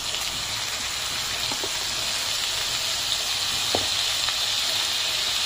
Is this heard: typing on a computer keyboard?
no